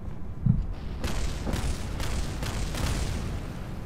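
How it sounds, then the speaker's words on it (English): Rocket debris crashing onto the surface in Kerbal Space Program, heard as a soft thud followed by a run of broadband impact bursts, several rumbling crashes in a row with no talk. "various pieces of the rocket impacting the surface"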